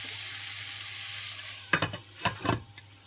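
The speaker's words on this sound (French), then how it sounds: "Et je vais laisser mijoter." Peanut sauce mafé simmering in a pan, a soft continuous bubbling sizzle, with a few louder clattering stirs or spoon knocks near the end.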